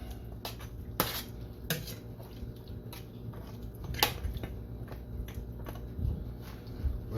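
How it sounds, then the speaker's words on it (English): A spoon stirs oxtail in a pot, giving irregular metallic clinks and scrapes over a steady background hiss, close and fairly quiet. "let's stir it up a little bit"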